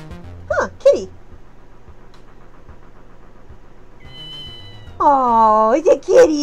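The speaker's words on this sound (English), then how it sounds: "Oh, it's a kitty." A cat in the video game Ghost Trick: Phantom Detective gives two short meows, then after a quiet stretch a longer, drawn-out wavering meow, clear and close over a faint steady background.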